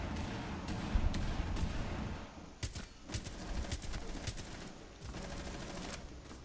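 Bursts of automatic gunfire and single shots in a Rainbow Six Siege Clubhouse team deathmatch, crackling loud and near over a busy game ambience, with several sharp clusters of shots spread across the stretch.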